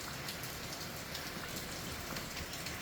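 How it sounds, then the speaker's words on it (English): Steady rain falls on surfaces, a soft continuous hiss with scattered drop patter, fairly quiet and with no one speaking. "It's raining, it's pouring."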